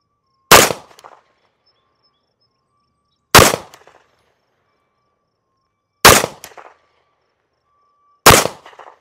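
Four sharp, loud 9mm pistol shots from a Tisas B9R double-stack 1911 firing Federal HST rounds, spaced about two to three seconds apart, each with a brief outdoor echo and silence in between.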